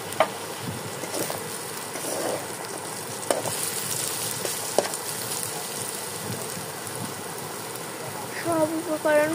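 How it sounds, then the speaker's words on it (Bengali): Salt and turmeric powder fry with spices in a pan for a Bengali mola carplet fish dish, giving a steady broadband sizzle with scattered stirring scrapes and a brief rise near the end. "এবার এর মধ্যে দিয়ে দিতে হবে লবণ, হলুদের গুঁড়ো, দিয়ে খুব ভালো মতো সব একসাথে ভেজে নিতে হবে"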